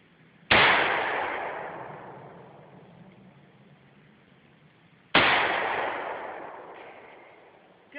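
Two sharp AR-15 rifle shots ring out at a target outdoors, several seconds apart, each a loud crack with a long echoing decay, and a third shot just beginning at the end.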